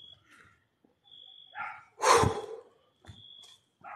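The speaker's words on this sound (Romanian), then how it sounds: "Auzi câinii?" Dogs bark at night near a cemetery, a few scattered barks and yips in the distance between quiet gaps, one louder bark standing out midway.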